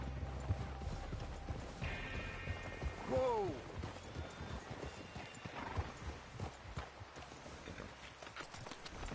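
Horse hooves clip-clop steadily in a PS4 video game while a horse neighs loudly midway; someone shouts briefly and other voices talk over the scene.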